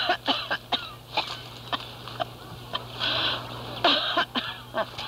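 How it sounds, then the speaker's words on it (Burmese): A man has a coughing fit in a Myanmar action film scene: a rapid series of harsh, close coughs in irregular bursts over a low steady hum. "ချောင်းဆိုးတာတက်တာပါလေ"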